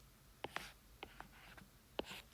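Chalk or marker strokes on a board during a math lesson, several short sharp taps and scratches spaced apart, fairly close and alone against a quiet room.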